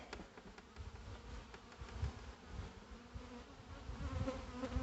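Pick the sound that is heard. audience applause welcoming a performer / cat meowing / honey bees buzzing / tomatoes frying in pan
honey bees buzzing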